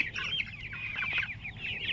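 Meat chickens cluck and chatter together in a busy, continuous flock sound, close and fairly loud, with overlapping calls filling the whole stretch.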